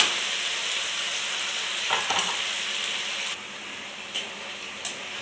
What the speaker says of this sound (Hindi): कढ़ाई में तेल गरम हो रहा है, ये भी कढ़ाई में डाल देंगे।